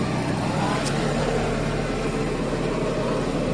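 A farm vehicle turns slowly between two banana trees while clearing weeds and banking soil around the plants, its engine a steady, continuous rumble close by with no voices.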